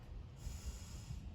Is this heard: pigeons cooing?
no